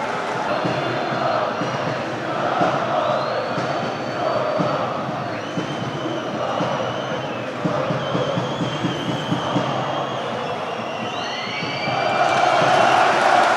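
Large stadium crowd at a Turkish league football match, Elazığspor against 68 Aksarayspor, applauding and murmuring steadily as two substituted players walk off the pitch, with a broadband roar swelling louder near the end.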